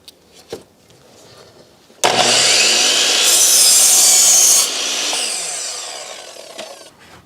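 Table saw cutting wooden roof rafters at a 10-degree angle for a chicken coop build: a sharp click, then the blade bites in with a loud, steady whining cut lasting several seconds before winding down.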